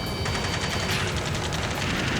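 Gunfire from an ambush in Ace Combat 7 rattles in rapid dense bursts, a continuous loud fusillade with no speech over it.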